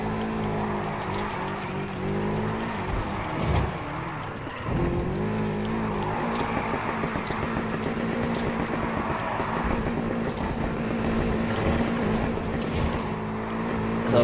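A Nissan Skyline drifts around a drift track in a racing video game, its engine roaring loud and continuous with rising and falling revs throughout.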